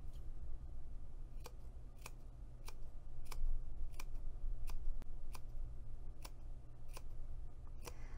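Sharp scissors make a series of quick, tiny snips into fabric around a curve, roughly a dozen crisp clicks spaced about half a second apart, close and clear over a quiet background.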